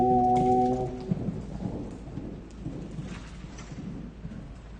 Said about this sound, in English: Outside rain.